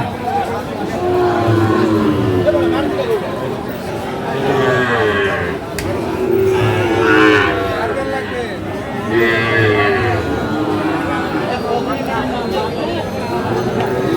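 Friesian and cross-breed bull calves at Aftabganj livestock market moo and low repeatedly, close and loud, over a constant babble of crowd chatter.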